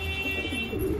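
Pigeons coo softly in a hobbyist's loft in Rohtak, where an old pink-hued bird is kept; low, steady murmuring runs through the whole moment under a faint constant hum.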